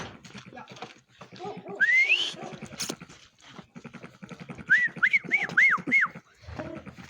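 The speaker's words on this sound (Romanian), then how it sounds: "Nu mai fluiera" Several short rising whistles, a brief sweep early on and then a quick run of five or six chirpy whistled notes, with people talking around them.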